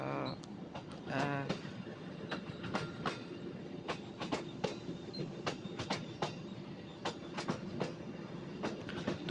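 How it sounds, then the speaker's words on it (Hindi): A passenger train running between Srikakulam and Palasa stations in India, heard from inside with a continuous rumble and a steady, repeating clickety-clack of wheels over rail joints, fairly loud and with no speech. "अभी हमारा ट्रेन श्रीकाकुलम स्टेशन छोड़ जाए"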